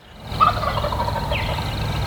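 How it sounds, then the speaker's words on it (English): A wild turkey gobbles from its roost tree in North Carolina, one short rattling call standing out at mid distance over quiet morning woods. "Once he turned around and he gobbled again, he sounded much closer."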